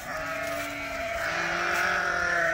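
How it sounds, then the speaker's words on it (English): Sheep in a pen bleat in a steady, drawn-out call lasting a couple of seconds, moderately close, over a constant background hum with no talk. "Actually, these are sheep."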